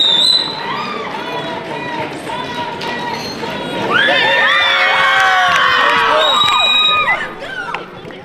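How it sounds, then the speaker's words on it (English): A crowd at a 6ixCity Bhangra competition cheers and shouts for the Shan-E Punjab bhangra team, a steady roar that swells louder midway with high whoops and screams, sustained for several seconds before easing off. "Everyone, make some noise for Shan-E Punjab."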